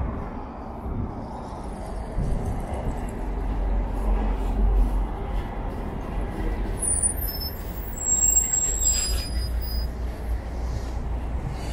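A Moscow route 204 city bus driving, with a low steady engine rumble and road noise heard from inside, plus occasional faint high squeals and clatter.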